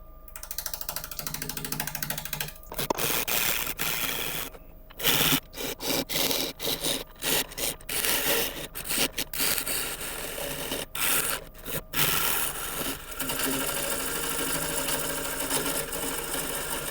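A wood lathe spins a turning blank while a tool cuts in toward the center, making a loud continuous rough scraping and whirring, broken by brief pauses as the tool lifts away.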